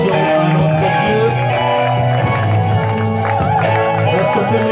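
A church congregation acclaims and cheers together, a dense, loud mass of voices with shouts and whoops over sustained singing-like tones, continuous throughout.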